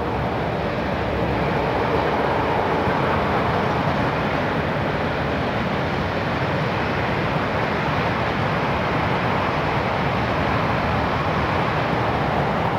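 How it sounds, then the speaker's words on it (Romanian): A slow-moving CFR passenger train produces a steady, loud rumble and roar that holds evenly throughout, with no voices. "Trenul ăsta chiar merge ca Melcu."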